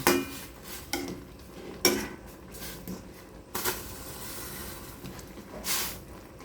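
Papaya pieces stirred in a cooking pot for denengdeng with saluyot, giving a few sharp metallic clinks and scrapes of a utensil against the pot, spaced irregularly over a low background hiss.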